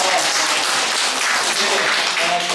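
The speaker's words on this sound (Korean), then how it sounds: "자, 모두 박수 한 번만 칠까요?" A group at a forest education program claps together, a thick, continuous patter of hands close by, fairly loud and even across the whole moment.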